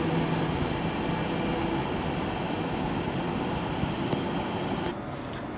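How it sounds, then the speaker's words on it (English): Class 390 Pendolino 39131 departing Birmingham International on the West Coast Main Line, a steady loud rumble and hum of the moving train that fades slightly near the end, with no talk. "39131 is now getting ready to depart with the 12:20 Avanti West Coast service from Blackpool North to London Euston"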